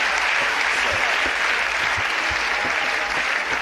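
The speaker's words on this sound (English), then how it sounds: "Let's give Jesus a clap offering." Church congregation clapping at a UK Bible conference, dense continuous applause filling the room at steady loudness for several seconds, with occasional low thumps beneath.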